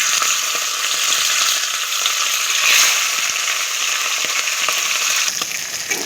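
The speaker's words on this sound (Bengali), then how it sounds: "এখানে আমার মাছের মাথাগুলো ভাজা হয়ে গেছে।" Fish heads frying in hot oil give a loud, dense, continuous sizzle up close, steady for several seconds with faint crackles scattered through it.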